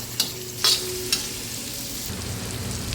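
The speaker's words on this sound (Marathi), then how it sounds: "तोही व्यवस्थित परतून घ्यायचा आपल्याला" Finely chopped tomato sautéing with dried sukat fish and spring onion greens, a soft continuous sizzle with a few sharp spoon clicks against the pan early on.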